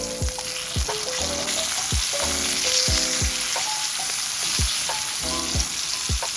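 Slices of homemade Spam sizzle and crackle steadily in hot oil, with occasional scraping and tapping of a utensil against the pan.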